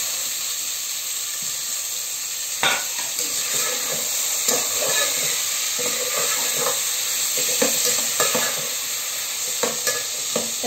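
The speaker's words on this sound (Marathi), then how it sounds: "आता आपण याच्यामध्ये टोमॅटो टाकूया, टोमॅटो ही आपल्याला चांगले भाजून घ्यायचे आहे।" Tomatoes fry in hot oil for an Anda biryani, a steady close sizzle broken by repeated clanks and scrapes of a spoon stirring against the pan, with no one speaking.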